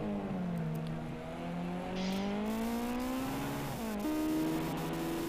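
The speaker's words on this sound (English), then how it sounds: "Driving in what looks like a drag car." Drag car engine in the Gran Turismo 5 racing game, revving loud and steady with rising, shifting pitch and a sudden jump near the end, continuous throughout.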